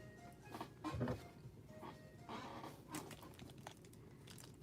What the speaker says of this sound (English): Oh, I got to cut the pack open.